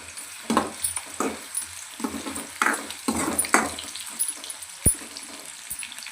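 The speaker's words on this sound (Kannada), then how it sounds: "ಈರುಳ್ಳಿ ಚೆನ್ನಾಗಿ ಬೇಯ್ತಿದೆ." Sliced onion frying in oil with okra and curry leaves, crackling sizzle broken by repeated scraping stirs of a spoon in the pan, up close with a sharp clink partway through.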